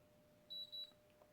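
An air fryer gives two short, quiet, high-pitched beeps in quick succession against a faint background hum.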